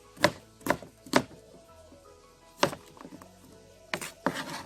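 Washed, peeled vegetables for Jamaican mannish water being cut on a board, a series of sharp, close knife chops in uneven groups of two and three with short pauses between, no voices.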